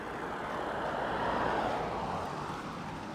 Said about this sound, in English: we've got cars doing all sorts of things over here today